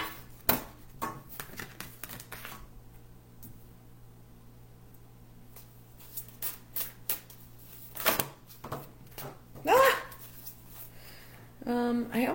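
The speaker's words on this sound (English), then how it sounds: "I'll give them a shuffle." Soft flicking and riffling of tarot cards being shuffled, in short bursts separated by quiet pauses, close and fairly faint.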